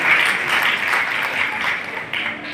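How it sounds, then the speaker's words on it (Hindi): Audience at a Hindi-language charity foundation award ceremony clapping warmly to welcome a guest, a steady crowd applause throughout with slight swells and no break. "जोरदार तालियां बजाकर स्वागत करें एकता अरोड़ा जी का"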